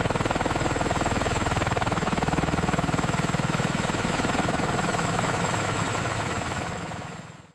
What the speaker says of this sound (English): A tandem rotor helicopter is a type of helicopter that features two main rotor systems